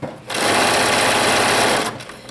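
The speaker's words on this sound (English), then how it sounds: "Sewing and turning just like before" A sewing machine satin-stitches a dense zigzag on light fabric, a loud continuous whirring burst of about a second and a half, close up, with quiet pauses at either end.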